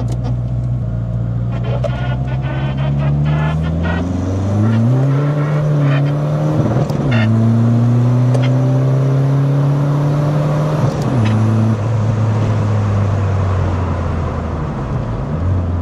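A Volkswagen Golf 2 with a swapped TDI diesel engine pulls hard through several gears, its loud droning engine note rising then dropping at each shift, with a whooshing turbo whistle and rumbling cabin noise throughout.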